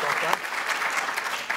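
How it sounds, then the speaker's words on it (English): A panel audience at a Rooster Teeth animation event gives light, polite golf-style applause, a steady patter of soft claps filling the room for a moment with crowd noise mixed in. "Golf clap."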